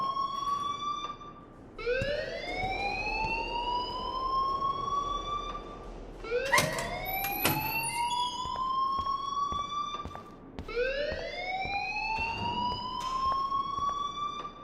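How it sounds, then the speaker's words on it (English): School alarm in the Life Is Strange video game: a loud, continuous electronic siren rising in repeated upward sweeps every four seconds or so, alone with no talk over it. "please turn off that alarm since that's your job"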